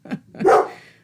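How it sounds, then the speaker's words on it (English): A dog barks a couple of times at a beeping delivery truck outside, two short close barks, the second louder and drawn out, heard alone. "it's beeping, and the dog doesn't like that"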